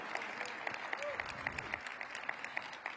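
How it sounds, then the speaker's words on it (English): Audience applause for State Board of Education members at a Washington, DC ceremony honoring public school educators; steady, moderately distant clapping from a crowd over three seconds, with scattered individual claps standing out. "Please give them a round of applause."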